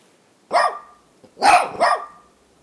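Patron, a sapper dog that helps with demining, barks three times, one sharp bark followed after a pause by a quick pair, each loud and close with near silence between.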